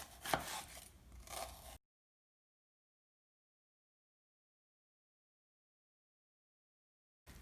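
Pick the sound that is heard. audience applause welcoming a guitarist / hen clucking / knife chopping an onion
knife chopping an onion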